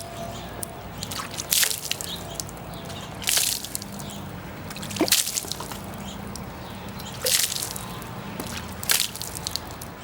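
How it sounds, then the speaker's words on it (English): Water splashed repeatedly onto a car stereo remote control, with sharp splashes and drips arriving roughly every couple of seconds over a low background hum. "Here, I'll splash a lot more water on the remote control."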